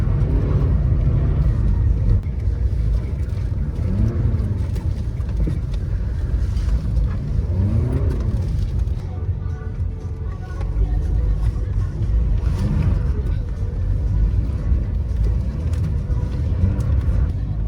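Two BMW E36 cars tandem drifting on a street: a continuous loud engine roar and rumble with swelling revs, heavily buffeted by wind noise, with voices mixed in.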